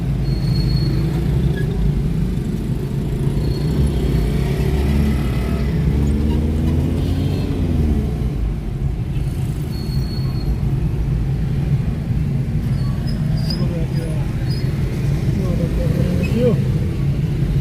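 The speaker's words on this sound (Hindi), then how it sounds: "अपने मोटरसाइकिल जा रहे हैं" Steady road rumble of a motorcycle ride on a road between Mirpur and Gujranwala in Pakistan, continuous engine drone with a brief rising rev, close and loud, with talk over it.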